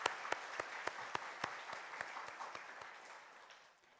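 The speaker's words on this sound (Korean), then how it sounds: "다시 한번 박수 한번 했으면 좋겠습니다" During an Easter Sunday church service, the congregation claps in a slow, unhurried rhythm, distinct strikes roughly every quarter second, fairly quiet and fading away over four seconds.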